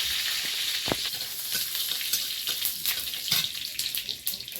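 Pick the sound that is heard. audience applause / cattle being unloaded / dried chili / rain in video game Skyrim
dried chili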